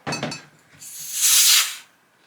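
A Dynapro vacuum blender pulls a vacuum on its carafe: a short clunk, then an airy hiss that swells for about a second and fades, close and alone.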